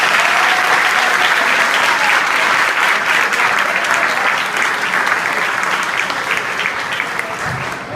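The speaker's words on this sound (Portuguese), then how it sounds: "Pessoal, eu queria pedir uma salva de palmas para esses 3 que levantaram a mão" Sustained applause from an audience honoring three members who raised their hands, dense and steady throughout before easing slightly at the end, with some faint talk beneath.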